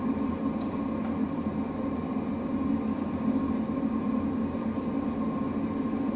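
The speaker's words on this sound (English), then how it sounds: "Is the dryer fan on?" A steady, droning fan hum with a low rumble from a Fisher & Paykel WD8060P1 washer dryer's drying fan runs without pause, with a few faint clicks on top and no voices.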